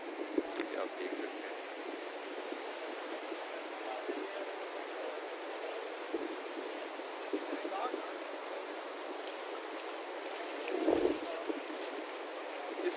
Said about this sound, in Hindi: ये बहुत मीठी आवाज़ है पानी की जो यहाँ पे इस वक्त आ रही है